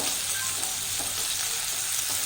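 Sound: spices sautéing in a pan for cabbage curry

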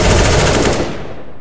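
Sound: AK rifle firing in video game CS:GO

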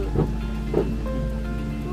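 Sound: rain

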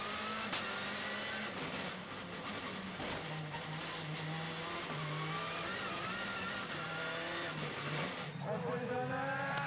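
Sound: rallycross cars at the start of a race

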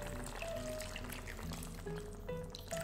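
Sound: water poured into pot of pork humba

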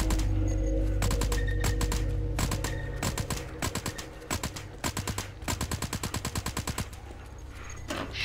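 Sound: SMG gunfire in VR game Into The Dead

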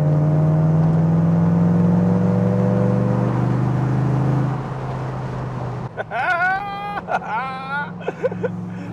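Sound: classic car engine revving while accelerating

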